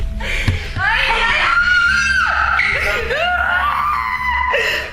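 A person screams loudly and shrilly for several seconds, the wailing pitch sliding up and down, with a brief thump near the start.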